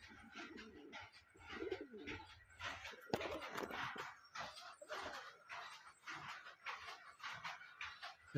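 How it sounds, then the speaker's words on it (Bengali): A male Murshidabadi Giribaz pigeon coos in repeated low, throaty bursts, close by amid soft rustling and other birds' calls. "নর পায়রা"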